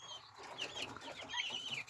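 Two-week-older Brahma chicks peep in a brief run of high, thin chirps, faint and close.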